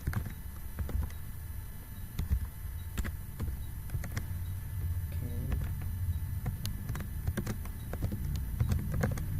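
Quiet, irregular keystrokes tap on a computer keyboard while a router security profile is being entered, a soft patter of clicks against a faint background hum.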